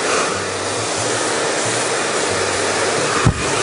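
Hair dryer blowing steadily on curly hair being smoothed straight, a continuous close airflow roar with a faint low hum, ending with a brief bump near the end.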